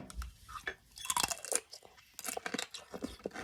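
Crisp crunching bites into hardened sugar-coated tanghulu candied fruit, a series of sharp cracks and chewing close to the mic with no talk.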